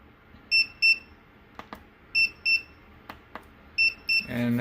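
A soy milk maker beeps when finished, in short high pairs, three double-beeps spaced evenly, with faint clicks between them in a quiet room.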